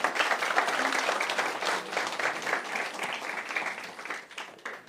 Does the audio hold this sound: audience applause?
yes